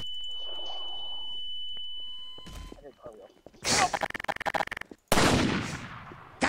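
A sniper rifle shot in Garry's Mod cracks out loud, with a burst of rapid gunfire and a second sharp blast after it, among game noises and a steady beep tone.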